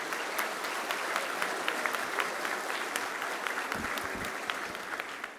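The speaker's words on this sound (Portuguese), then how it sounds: "E uma salva de palmas mais calorosa para todos." Audience applause at a ceremonial special session marking 45 years of public life, steady sustained clapping from a crowd throughout, fairly distant in a hall, tapering at the end.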